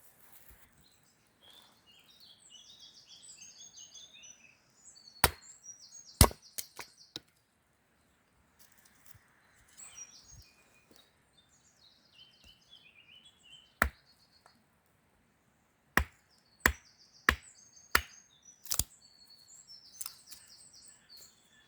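Wood being chopped outdoors during a training weekend, a series of sharp, loud single strikes, widely spaced at first then in a quicker run near the end, with birds chirping in the quiet background.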